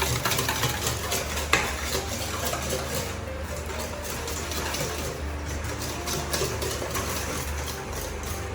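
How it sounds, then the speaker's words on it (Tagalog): Pork barbecue marinade of oil and sugar whisked in a bowl, a steady close swishing and churning with light clinks of the whisk against the sides, continuous and fairly loud, no voices. "Mix lang natin. Magamit tayo ng whisk."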